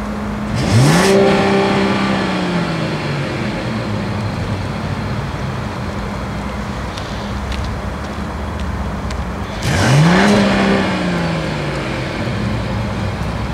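A Mercedes-Benz CLE 450 coupe with a 3.0-litre inline-six twin-turbo engine idles steadily, then twice blips loudly with a rising rev that quickly falls back to a low, even hum.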